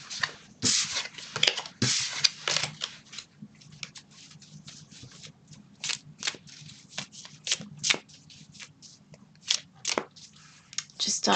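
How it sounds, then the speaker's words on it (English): Tarot cards are shuffled repeatedly up close, crisp riffling bursts coming in irregular bunches with brief pauses between. "just start shuffling the cards"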